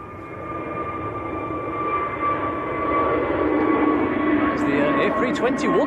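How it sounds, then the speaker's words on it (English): An easyJet Airbus A321neo departs Manchester Airport for Antalya, a strong jet roar with steady tonal whine that builds in loudness; a voice comes in near the end. "Right, Easyjet next to go. And this one is out to Antalya down in Turkey."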